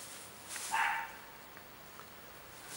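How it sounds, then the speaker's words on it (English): One short dog bark in the distance, faint against a quiet rural outdoor background in Northumberland, followed by a few soft scattered ticks. "There's Ruby barking at somebody"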